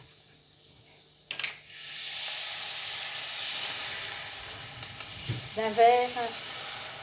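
About ten centilitres of Madeira wine hits a hot pan of flour-coated beef kidneys for a sauce, setting off a sudden, steady hiss of steam that keeps sizzling as a voice speaks over it.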